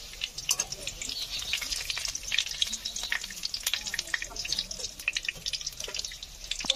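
Soybean chunks frying in hot oil while being strained out, a steady crackle with scattered drips and metallic scraping, faint and close, no voices.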